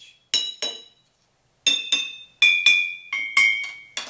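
Glass bottles partly filled with liquid are struck one after another, giving about nine bright, ringing clinks of varying pitch, first in a quick pair, then in a faster run, each tone fading quickly.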